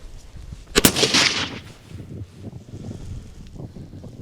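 AR-15 rifle firing military steel-core ammunition at a combat helmet outdoors: a single sharp, loud crack followed by a short burst of wind-blown noise and faint handling sounds.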